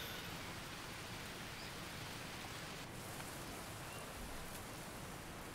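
Rain falls steadily in the jungle survival video game Green Hell, a dense, even hiss of downpour that stays constant and faint throughout, with no voices.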